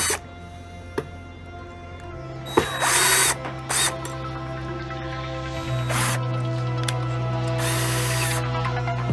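A power drill whirs nearby in a steady high whine, with short bursts of spraying hiss and a few clicks and clunks mixed in.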